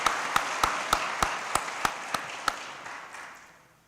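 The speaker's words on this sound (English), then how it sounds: "Please give them a round of applause." Audience applause at a fall convocation ceremony for a university college of education, a burst of clapping with sharp individual claps standing out, gradually fading away over a few seconds.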